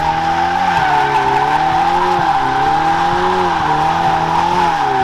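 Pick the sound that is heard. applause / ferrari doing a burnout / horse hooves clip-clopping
ferrari doing a burnout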